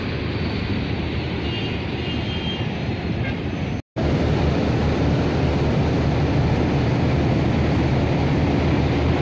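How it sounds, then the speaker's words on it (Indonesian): Large Asia Star coach bus engine idling or running close by at a bus terminal, a steady loud broadband drone that cuts out abruptly for an instant midway before resuming unchanged. "Nah, ini bis yang saya naikin nih, Asia Star."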